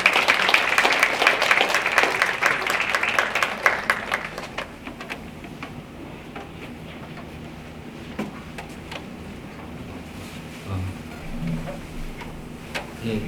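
Applause from a church gathering crowd welcoming a couple about to give testimony, a burst of clapping that fades after about four seconds, followed by quiet room noise and faint shuffling.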